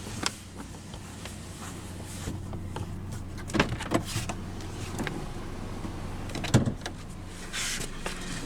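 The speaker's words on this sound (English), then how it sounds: "now we'll roll down the driver's window" The driver's power window of a 2020 Chevrolet Spark LS rolls down with a soft, steady electric motor hum. A few faint clicks and thumps sound along the way, and the whole thing stays quiet and close.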